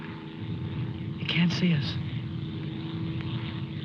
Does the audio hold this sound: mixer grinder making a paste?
no